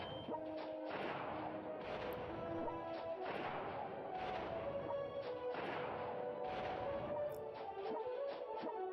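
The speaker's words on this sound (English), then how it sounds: "hit Darwin up with the laser cannon." A laser cannon fires in the strategy game World Conqueror 3, striking Darwin. Booming artillery-like blasts land about once a second in an even, steady rhythm, all at a moderate level with no voices.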